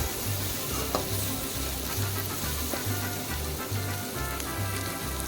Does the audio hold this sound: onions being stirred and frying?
yes